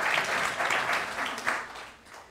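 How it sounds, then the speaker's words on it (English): Audience clapping during a church service, a short moderate burst of claps that gradually thins and softens over a couple of seconds. "Just want to keep on clapping."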